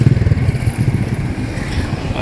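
Motorcycle engine rumbling nearby on a village road, a steady throbbing low drone that pulses slightly as it goes by, loud and close.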